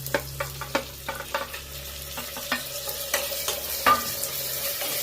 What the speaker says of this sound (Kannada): ಇದಕ್ಕೆ ನಾನು ಇವಾಗ ಟೊಮೆಟೊನ ಆ್ಯಡ್ ಮಾಡ್ಕೊತಾ ಇದ್ದೀನಿ.